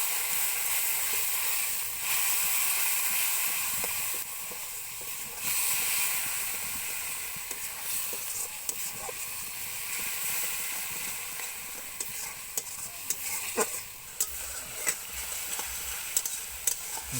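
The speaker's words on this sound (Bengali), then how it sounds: "জল দিয়ে ভালোভাবে মশলা কষিয়ে নিতে হবে।" A spice paste with chili sizzles and hisses in a pan with a splash of water as it is stirred and fried for a Malabar spinach and pumpkin ghonto, with steady frying noise and scattered clicks of the stirring spoon.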